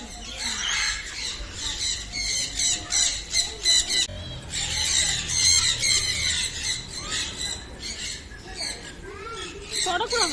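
Exotic birds at a bird park in Mettupalayam keep up a shrill, continuous squawking and squealing, loud and close, with voices talking underneath.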